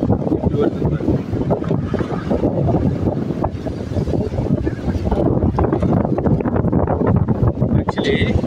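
Rough sea waves surging against the shore during the rainy season in the Andaman Islands, a loud, continuous rushing wash buffeted by wind noise on the microphone.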